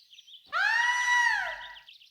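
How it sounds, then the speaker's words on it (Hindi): A woman lets out a single high, sustained scream lasting over a second in an indoor crime-drama scene, loud and clear against near silence. "यहाँ से चीखने की आवाज आई है और बिल्कुल मैडम जैसी आवाज थी"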